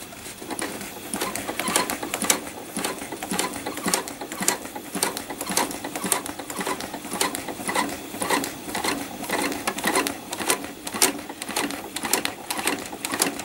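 A sewing machine stitches trapunto flowers in a steady rapid clatter of needle strokes, moderately close and continuous with no talking.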